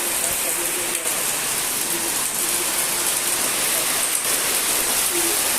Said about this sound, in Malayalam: ഇവിടെ നല്ല മഴ പെയ്യാം